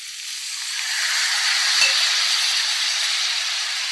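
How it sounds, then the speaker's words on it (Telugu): Mixed vegetables for vegetable pulao sizzle steadily in a hot pan, a bright continuous frying hiss that swells slightly and holds close and loud, with a brief clink partway through. "ఇవి బాగా ఫ్రై అయినాయి"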